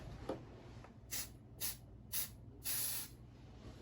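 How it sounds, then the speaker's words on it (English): Four short hissing bursts from an aerosol smoke detector tester spray can, evenly spaced, with the last burst held noticeably longer. No voices. "Spray it a few times."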